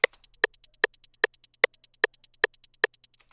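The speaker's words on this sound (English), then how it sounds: "This hi-hat pattern is like a stereotypical glaive hi-hat pattern where instead of doing a two-step, you do like a one-step" A crisp glaive-style hyperpop hi-hat pattern ticks in a rapid, even one-step rhythm, its hits alternating between louder and softer velocities, joined by a sharper accent roughly every 0.4 seconds, dry and alone.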